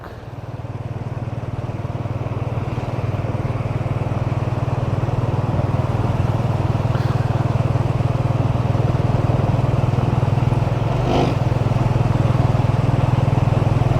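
A Royal Enfield Bullet 350 motorcycle rides along with a steady, loud low thump from its engine, continuous and close, with faint road clatter and no talking.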